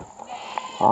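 Goats at a goat farm let out a short bleat that rises near the end of a brief, otherwise quiet moment, with no talking.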